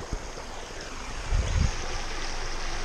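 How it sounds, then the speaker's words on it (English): Barramunga Creek flows below a bridge on a forest track among tree ferns, a steady broadband rush of running water with a few low thumps nearby. "So we got Barramunga Creek here."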